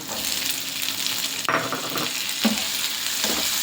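Onion and capsicum frying in a pan for capsicum rice, with a steady close sizzle and a few stirring scrapes, no voices.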